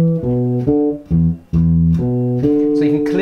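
Slow bass guitar line from a song, deliberate sustained low notes changing every half second or so, played alone and fairly loud.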